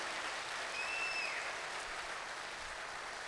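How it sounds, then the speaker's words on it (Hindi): A small audience claps together at a motivational network-marketing seminar, a steady, dense patter of hands that runs evenly throughout with a faint whistle-like tone briefly rising above it. "आपके लिए कोई ताली बजाए तो कैसी बजाए?"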